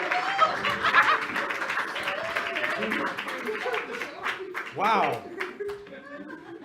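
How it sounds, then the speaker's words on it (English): Applause at the close of an improv comedy show, a burst of clapping mixed with chuckles and laughter from the audience, with people talking and exclaiming over it as it tapers off. "Ladies and gentlemen, a round of applause."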